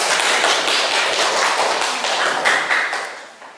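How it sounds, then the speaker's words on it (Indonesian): A classroom of students claps for a group representative, a steady, bright patter of many hands that carries on for most of the moment before tapering off at the end. "beri tepuk tangan untuk perwakilan dari kelompok 2"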